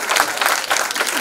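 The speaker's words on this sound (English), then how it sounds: "you can clap once in a while, actors love it" Audience applause in a college auditorium during a conversation with an actor: a short, dense burst of many hands clapping, steady and loud throughout.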